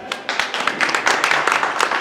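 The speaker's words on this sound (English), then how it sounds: "Let's give him a round of applause." Audience at a junior livestock show ring claps for a round of applause, a dense patter of hands that swells and holds steady, with a voice faintly under it.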